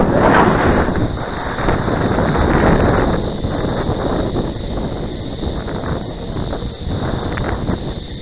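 Steady wind rushes and buffets against the microphone at an open model-aircraft flying field, a loud broadband roar that stays constant for several seconds with slight gusty swells and no voices.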